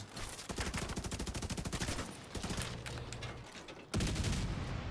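Heavy gunfire in The Division 2, a loud, dense stream of rapid shots that runs almost without a break, dips briefly, then returns even harder near the end.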